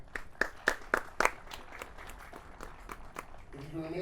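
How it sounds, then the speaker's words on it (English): A few sharp claps open a brief round of applause for an honoree before a UPSL SoCal Division 1 championship soccer game, quick and scattered, fading into crowd murmur as a low tone rises at the end. "Let's give a round of applause for Mr."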